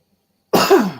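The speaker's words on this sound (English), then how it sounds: "Man, I keep coughing tonight." After a moment of silence comes one loud, harsh cough right up close, dying off in a short rasp.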